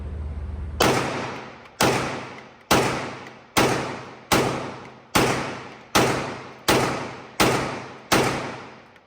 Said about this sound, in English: We're going to shoot a little bit downrange and just plink around with it.